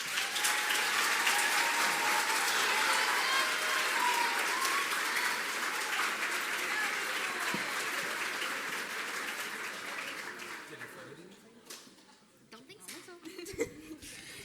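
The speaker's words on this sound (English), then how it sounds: "Will you please give them one more round of applause?" Sustained audience applause for a middle school choir at a school pops concert, loud and steady for about ten seconds before thinning out, with scattered laughter and murmuring voices mixed in.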